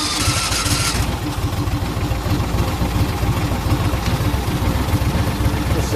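A carpet-cleaning truck-mount machine's gas engine fires up and settles into a steady, rough, low chugging idle, loud and close with no talk over it.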